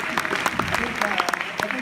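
Audience at a community update meeting in Chicago claps briefly, scattered sharp hand claps at moderate distance, with talking over them.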